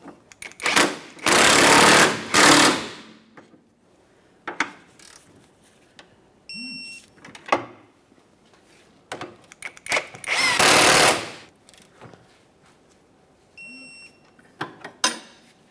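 Impact wrench tightening control arm mounting bolts on a 1994-1997 Honda Accord, two long loud rattling bursts separated by short tool clicks and ratchet taps, each followed by a brief beep, close up in a garage.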